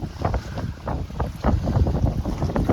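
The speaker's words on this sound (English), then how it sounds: "I thought I'll stay down here because it's too windy so you can hear me." Strong wind on a sailboat buffets the microphone in loud, gusty rushes, with a low rumble throughout and no talking.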